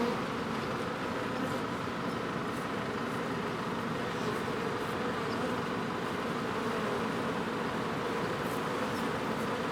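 A steady, dense insect buzz of many honey bees around a hive box fills the whole stretch, continuous and fairly close with no voices.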